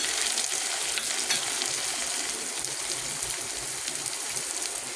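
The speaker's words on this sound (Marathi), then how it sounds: "कांदा लाल झालेला आहे आता याच्यामध्ये मी टमाटर टाकून घेते" Onion and tomato frying with a chilli-garlic paste, giving a dense, steady, close sizzle with crackling spatter throughout and no talking.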